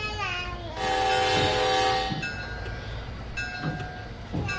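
Amtrak train arriving at Newark Penn Station in the Train Sim World 2020 simulator: a loud sustained horn blast over engine rumble, followed by quieter rolling noise and a few shorter tonal horn sounds as the train pulls in.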